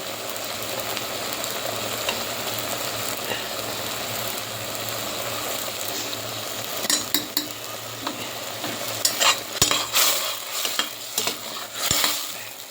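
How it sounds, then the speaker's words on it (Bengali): Prawns with chilli being stir-fried in a pan, a constant frying sizzle under repeated scrapes and clinks of the spoon that grow busier and louder toward the end. "চিংড়ি মাছটা ভালো করে কষিয়ে নিতে হবে"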